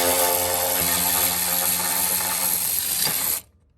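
Ratchet wrench loosening 14 mm bolts on the steering brace of a 1989 Honda Accord LXi, a dense, continuous run of rapid clicking that stays loud and close, then stops abruptly near the end, leaving near silence.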